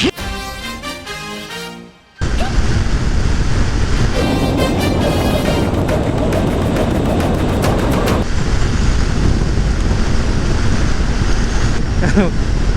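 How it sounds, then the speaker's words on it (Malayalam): Loud, steady wind roar buffeting the microphone on a motorbike ride at up to 90, continuous and rushing, with a brief quieter gap early on. "ഇത് അടിക്കണ കാറ്റ് കണ്ട"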